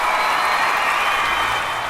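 A crowd applauds at an Olympic table tennis match: a dense, steady wash of clapping that holds at an even level for the whole span, with no single voice standing out.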